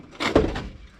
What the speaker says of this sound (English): the door still opens and closes.